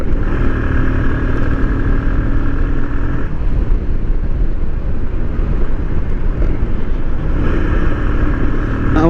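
A motorcycle rides along a rural road near Narsingdi at about 55 to 65 km/h, giving a constant loud roar of engine and road noise mixed with heavy wind rush.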